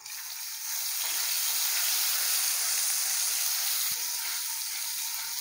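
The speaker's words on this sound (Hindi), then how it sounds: "मसालियां नूं भुन लिया" Whole spices, cumin, asafoetida, a piece of cinnamon, mace, cloves and green cardamom, sizzle steadily as they roast in hot oil, a loud, even hiss with a faint clink near the end.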